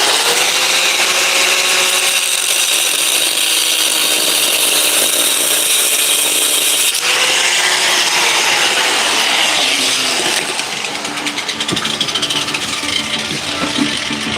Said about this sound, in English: Let me grind this one last bolt.